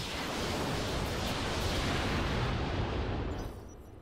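Heavy mech weapons fire in the Roguetech battle game, a dense sustained roar of overlapping blasts and rumble lasting several seconds before tapering off abruptly near the end, with no talking.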